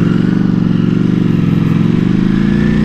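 A Ducati V4 motorcycle engine runs loud and close at steady high revs, its pulsing drone shifting slightly in pitch as the quickshifter is used.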